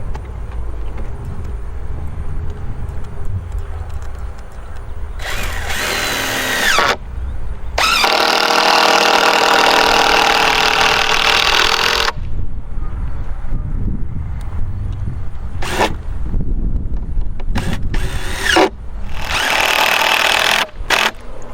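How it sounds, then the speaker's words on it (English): Power drill driving 3-inch screws up through the bottom of a wooden barn owl nest box into its bracing, loud sustained whirring runs of a few seconds each, separated by short gaps and knocks. "So what we're doing now is putting some 3-inch screws up through the bottom into the bracing for additional support."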